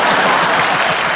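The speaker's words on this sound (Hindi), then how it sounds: "एक बार माधुरी मैम के लिए जोरदार तालियां हो जाएं।" An awards-show audience applauds Madhuri at the IIFA ceremony, a dense, steady burst of clapping from a large crowd, close and loud throughout the brief moment.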